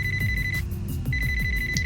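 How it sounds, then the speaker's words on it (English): A phone ringing in the video game Lucid9, a repeating electronic trill in two bursts separated by a short gap, heard over a steady low game ambience. "A phone ringing."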